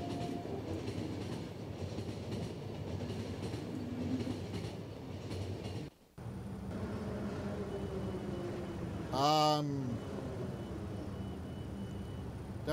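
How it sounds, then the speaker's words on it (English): A train pulls into a station in the video game The Final Station, with a continuous rumble and rattle of wheels, a brief cut near the middle, then a short metallic squeal as it slows, heard alone without talk. "Train! You've arrived!"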